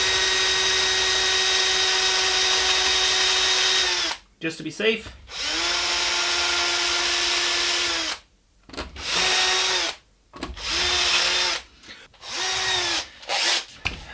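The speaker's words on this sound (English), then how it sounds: "I'm gonna pre-drill these a little bit extra here on the 12th." Power drill pre-drilling screw holes in a Les Paul guitar body being converted, several close, loud bursts of steady whine separated by short pauses, with someone speaking briefly between them.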